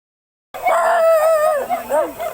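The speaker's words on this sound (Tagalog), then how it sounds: "Galit yung aso." A dog lets out a drawn-out, wavering howl-like bark, loud and close, after a moment of silence, sounding agitated and whining.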